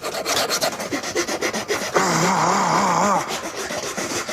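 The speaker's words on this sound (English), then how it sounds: "Because filing it down looks exhausting" Rasping scrape of a file worked along the edge of a wooden toilet seat, with repeated rubbing strokes and a steadier, louder stretch of continuous grinding in the middle, close and prominent.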